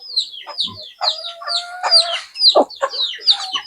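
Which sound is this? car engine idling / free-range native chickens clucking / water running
free-range native chickens clucking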